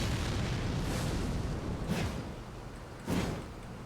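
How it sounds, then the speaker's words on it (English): Explosive blast from a charged great spear attack in Elden Ring: Shadow of the Erdtree, heard as repeated booming bursts over a dense rumbling background, fairly loud and close. "Only does the full explosion on full charge."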